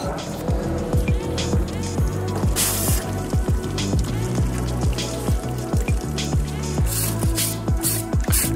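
Hot cast aluminum bronze quenched in a bucket of water gives a loud, steady hiss and bubbling roar that lasts throughout, with faint background noises mixed in.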